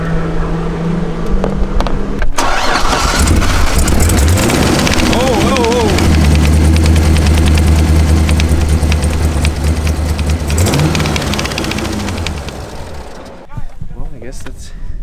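A Z06 Corvette engine running loud and close with one cylinder misfiring, a rough, uneven idle with revving swells over roughly fifteen seconds, and people talking over it.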